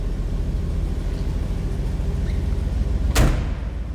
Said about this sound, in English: Like how that door closes?